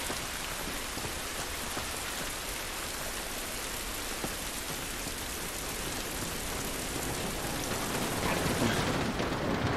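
Steady, dense rain in the video game The Last of Us Remastered patters across surfaces, a continuous broadband hiss that grows slightly louder toward the end, with no voices.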